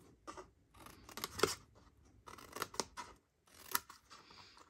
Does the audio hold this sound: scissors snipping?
yes